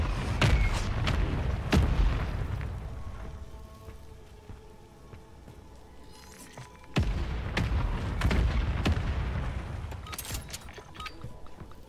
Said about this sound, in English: Mortar strike inbound.